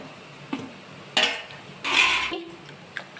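Dosa batter with ginger, chilli and coriander is stirred in a metal pot. Two longer scraping, swishing strokes stand out, with a few lighter clinks around them, loud and close. There is no talk.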